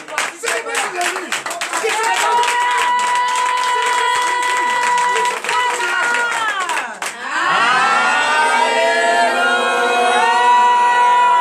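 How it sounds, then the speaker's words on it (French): A congregation at a Benin deliverance and prophecy night claps and cheers for Jesus, a loud, continuous crowd roar with rhythmic clapping and shouting that swells again in the closing seconds. "Donnez l'acclamation de Jésus."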